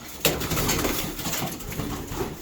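Mülemans racing pigeons coo at a loft facility, a soft repeated cooing over a steady wash of background noise close by.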